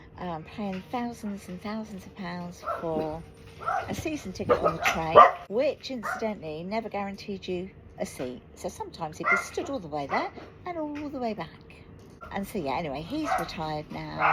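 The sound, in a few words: dogs barking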